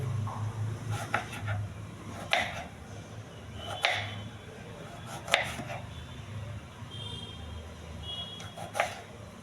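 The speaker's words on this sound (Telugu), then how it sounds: "వంకాయని కొంచెం పొడవుగా సన్నగా కోస్తున్నాను నేనైతే" An eggplant is sliced thin and long with a knife. Several crisp cuts land roughly every second and a half over a steady low background hum.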